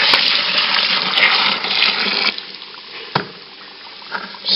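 Dry malt extract and brewing sugar poured into a pot of boiling water, a hissing, bubbling rush that is loud at first, then drops to a quieter simmer with a couple of sharp clunks.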